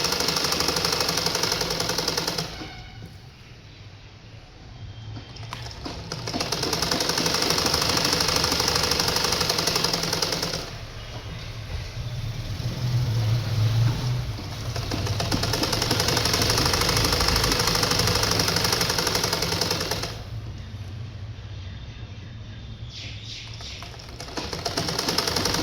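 A sewing machine stitches a petticoat in a tailoring class, its loud, steady mechanical run alternating with short pauses over about twenty-five seconds, with no talk.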